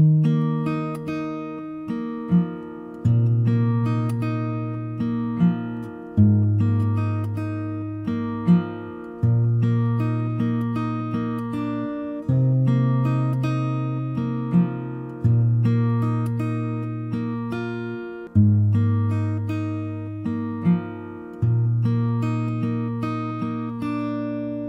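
Fingerstyle acoustic guitar playing the third part of a song's intro, with low bass notes ringing beneath plucked melody notes in repeating phrases, heard close and clear without any voice.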